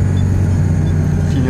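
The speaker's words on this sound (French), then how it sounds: "on accélère, feu vert. Écoutez un peu." A Ligier JS50 microcar pulls away from a green light. Its small engine gives a low, steady drone close by for a brief moment.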